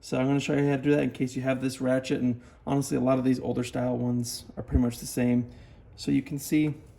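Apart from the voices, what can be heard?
No everyday noises stand out.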